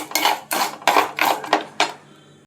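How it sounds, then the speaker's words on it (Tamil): Coriander seeds are sautéed in a pan, heard as five or six rhythmic scraping strokes of a spoon against the pan in quick succession, close and clear, ending after about two seconds; no one speaks. "மல்லி போட்டு நல்லா வதக்கிடுவோம்."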